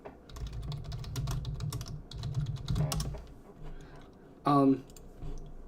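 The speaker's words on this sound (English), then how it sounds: "I muted myself while I was typing because I got a loud keyboard." Rapid, uneven clacking comes from a loud computer keyboard during an online tabletop role-playing session. It plays in bursts, with a sharper clunk near the end, and is fairly close and prominent.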